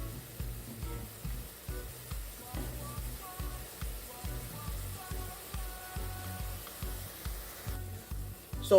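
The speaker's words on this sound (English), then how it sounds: "So let this saute for a bit." Spices and pepper sautéing in a pan while Jamaican corned beef is being made, a soft steady sizzle with occasional stirring scrapes, moderately quiet and continuous.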